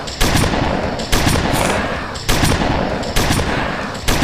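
Gunfire in the Roblox Zombie Arena video game, with loud bursts of rapid shots that start about once a second and ring out between them, close and steady, with no talk.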